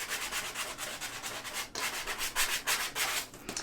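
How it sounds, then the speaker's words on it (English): Sandpaper rubbing along the edges of a Dollar Tree wooden pumpkin, a close, quiet series of quick scratchy strokes in an uneven rhythm. "let's sand the edges off of this one"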